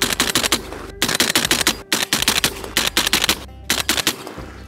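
A Winchester SX4 shotgun fired outdoors in freezing cold weather, loud rapid sharp blasts in quick bursts with brief pauses between strings of shots, close to the listener.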